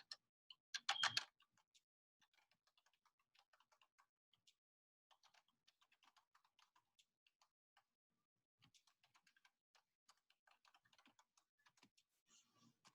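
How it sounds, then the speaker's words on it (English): Fingers type on a computer keyboard in a quiet room, opening with a quick burst of keystrokes and then carrying on as soft, uneven clicks with short pauses and no talking. "I just typed it in the chat screen"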